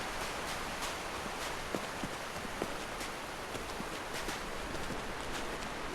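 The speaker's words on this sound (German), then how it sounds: "ich bin hinter einem Wasserfall" A steady, dense rush of a video game waterfall in Call of the Elder Gods, heard from behind it, continuous and even throughout, with a few faint taps and splashes scattered over the roar.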